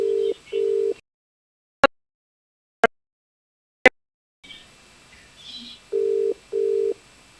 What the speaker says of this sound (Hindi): हम उन्हें लगातार जोड़ने की कोशिश कर रहे हैं, अपनी व्यस्तता के चलते वो फोन नहीं उठा पा रहे हैं